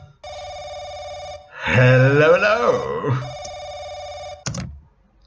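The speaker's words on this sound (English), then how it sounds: "And another phone call." In The Crooked Man video game, a telephone rings in steady electronic trills, pauses while someone speaks, then resumes ringing before a click cuts it off.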